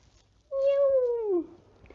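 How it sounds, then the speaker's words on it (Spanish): A single clear cat meow, drawn out and falling in pitch, sounds close and alone in a quiet room for about a second. "Aurora tenía una gatita que se llama Lunita"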